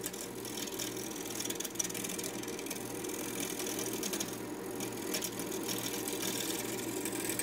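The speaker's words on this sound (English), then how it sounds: "making sure the blank clears the tool rest before turning on the lathe." A wood lathe spins a maple blank at around 500 RPM, a steady mechanical hum with a faint rhythmic whir and rattle, held at an even, moderate level throughout.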